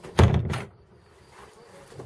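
A single solid thunk as a heavy boat cabin door on a 35-foot motor cruiser shuts firmly, followed by quiet room tone.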